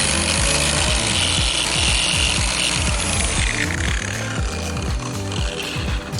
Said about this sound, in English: We're gonna throw it back on the polisher while it's still fairly damp.